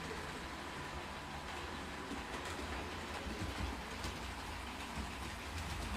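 Model railway trains run continuously with a steady, dense rumbling and rattling clatter, fairly close and even in level throughout, with no talk.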